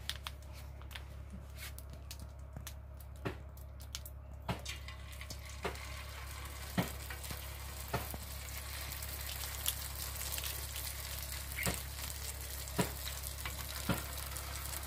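Homemade kurkure-style chips frying in hot oil in a pan make a continuous close sizzle, broken by sharp clicks and taps at irregular intervals as pieces are added, with no speech.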